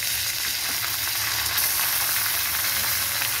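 Onion going into hot oil with garlic and ginger that are already fried, giving a steady, dense, close sizzle and crackle that runs without a break, with faint stirring.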